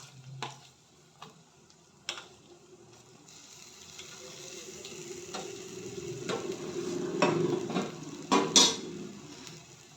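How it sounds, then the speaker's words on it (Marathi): Roasted eggplant being stirred into a spice masala in a pan, with scattered clinks of a utensil against the pan and a low sizzle that grows busier toward the end, no voices. "आणि हे मसाल्यामध्ये छान मिक्स करून घ्यायचं"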